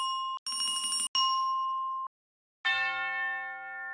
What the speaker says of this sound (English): That tubular bell's getting used later.